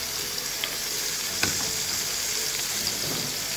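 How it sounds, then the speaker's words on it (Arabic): Pieces of meat sear in a pot for a meat and onion tagine, with a steady loud sizzle and faint stirring scrapes, no talking. "هنزل كده بقطع اللحم. بسم الله بسم الله، اديها صدمة"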